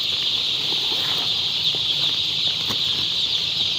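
A dense, constant high peeping of many young broiler chicks crowded together in a truck, steady and loud with a few soft rustles underneath.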